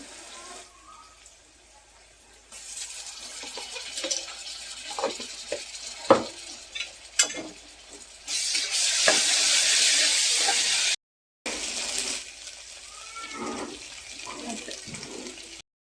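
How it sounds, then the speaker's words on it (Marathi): Ginger garlic paste hits a hot pan with turmeric for soyabean bhath in a home kitchen, giving a loud, steady hiss of sizzling that swells midway, with stirring clinks and scrapes throughout. "त्याच्यामध्ये आपण अद्रक लसूणची पेस्ट टाकूया।"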